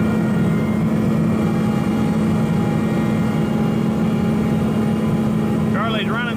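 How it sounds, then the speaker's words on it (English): A New Holland CR920 combine running its unloading auger during harvest, a loud, steady low engine and machinery drone held throughout, with a brief whistling tone rising near the end. "Charlie's running the auger out."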